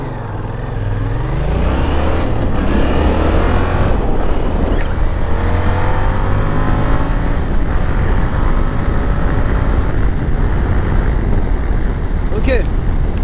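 A Yamaha Tracer 7 motorcycle engine revs and accelerates hard from a standing start, rising pitch through gear changes, loud and close, with a voice speaking over it.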